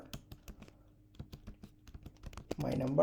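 Code is typed on a computer keyboard in crisp, irregular key clicks close by, and a voice starts talking near the end.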